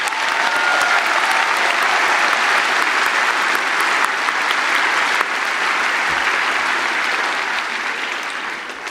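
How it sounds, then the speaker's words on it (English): Sustained applause from a large graduation audience, dense and steady from start to finish, with the clapping easing slightly toward the end. "Please give a round of applause for the people that have come here to celebrate the ending of this chapter."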